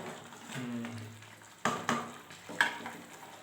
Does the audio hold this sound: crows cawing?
no